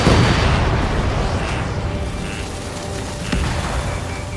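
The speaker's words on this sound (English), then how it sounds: "An explosion!" A heavy explosion in the Ace Combat 7 flight game opens loud and near, its broad rumble slowly decaying over several seconds with faint booms and tones trailing behind.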